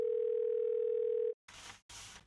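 A steady, loud telephone dial tone hums for over a second in the game Thimbleweed Park, then cuts off and gives way to two short bursts of line noise separated by brief silence.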